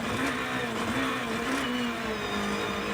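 Onboard rally car engine revving hard on a stage of the 2014 Barum Czech Rally Zlín, a loud, close, continuous high-pitched roar with the pitch shifting through gear changes.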